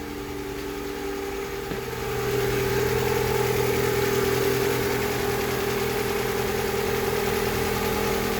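Overhauled Honda Civic engine idling while warming up, a steady close hum that rises slightly in level after a couple of seconds and then holds an even, continuous drone.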